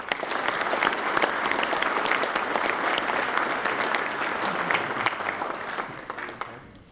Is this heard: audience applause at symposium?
yes